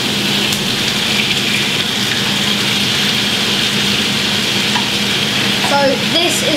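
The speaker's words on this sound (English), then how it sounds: "going to put all the onions and the peppers in it" Onions and peppers fry in a pan for chicken fajitas, giving a steady, loud sizzle with stirring scrapes throughout and a few brief utensil clinks near the end.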